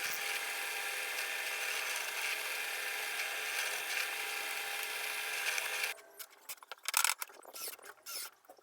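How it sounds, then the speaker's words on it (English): A drill bores through reclaimed Douglas fir boards for an outdoor table, giving a steady, fairly faint whirring grind for several seconds, then stopping and leaving a few scattered clicks and knocks. "I then just sat it on top of the second board that I was going to attach to and drilled through those holes"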